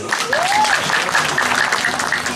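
Audience clapping at a performance at Pura Penataran Taman Bali Agung in Bali, steady and dense throughout, with a brief rising tone and faint background voices mixed in.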